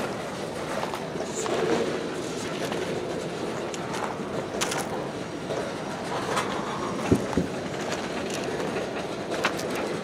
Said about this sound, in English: Never seen this much freight on a train with three locomotives.